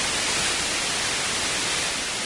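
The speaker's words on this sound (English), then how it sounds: "so this is white noise" Steady broadband white noise hiss, even and constant at moderate loudness throughout, with no voices.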